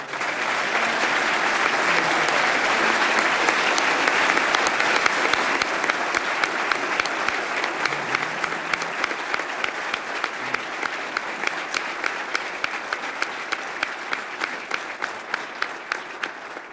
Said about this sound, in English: please join me in giving these individuals a big round of applause